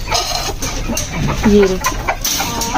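Chickens cluck busily while being fed in a yard, loud and close, with a few sharper squawks as people talk over them.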